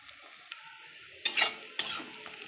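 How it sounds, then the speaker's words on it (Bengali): Onions frying in a pan as the base for mutton biryani, a faint soft sizzle broken by two sharp bursts of scraping and stirring, with light clinks of a utensil against the pan. "পেঁয়াজটা লাল লাল হয়ে এলে আমি মাংসটা দিয়ে দেবো"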